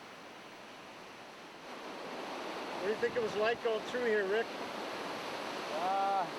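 Rapids rush through a rocky channel on a Yukon river, a steady broad roar of water heard close by, with a voice talking over it partway through.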